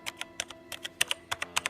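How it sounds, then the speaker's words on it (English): Keys clacking on a Logitech G613 keyboard, about fifteen crisp, close taps in quick irregular succession, each followed by a faint springy ring from inside the casing, heard alone. "you can hear the springs resonating inside the actual cavity of the keyboard"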